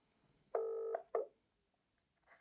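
Two telephone keypad dialing tones, a long steady beep followed by a shorter one, placed before a phone call, clear and close in an otherwise quiet room.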